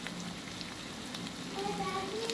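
Onion and potato fry in a pan with turmeric, chili and coriander powder and salt for a hilsa fish curry, giving a steady, low, even sizzle with no talking.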